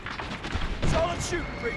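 Video game gunfire during a bomb-planting match, a few sharp shots and mechanical clicks, moderately loud, with muffled background voices.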